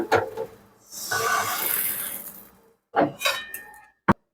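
A metal lid clanks onto a wok while chakli cooks, loud close clattering bursts separated by quiet gaps, ending with a sharp single clink.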